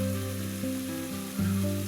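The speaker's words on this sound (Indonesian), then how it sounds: "Kemudian kita masak dengan menggunakan api sedang hingga sambal matang." Sambal chili paste frying in hot cooking oil over medium heat, a loud, dense continuous sizzle with a steady low hum from nearby equipment, close-up and unbroken.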